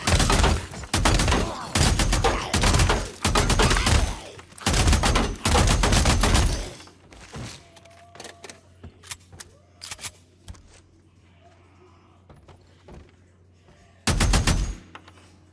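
Rapid bursts of automatic gunfire from the video game Days Gone, loud and dense for several seconds, then quieter scattered clicks and shots before one final heavy burst near the end.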